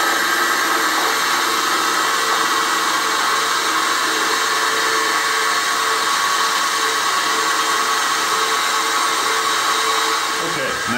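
A milling machine takes a 6 mm deep cut with a 6 mm endmill, giving a steady, loud, continuous machining whine and hiss that holds evenly throughout with no pauses.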